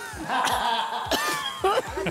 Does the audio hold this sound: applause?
no